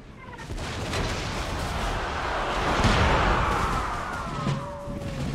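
Video game artillery booms and rumbles in a dense, continuous barrage of explosions, with a whistling shell sweeping past near the end, in Empire: Total War.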